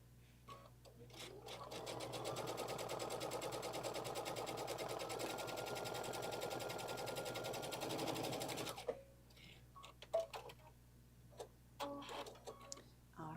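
A sewing machine runs steadily for about eight seconds, stitching a half-inch seam allowance for a boxed edge, a continuous close mechanical whir that then stops, leaving faint handling clicks and rustles.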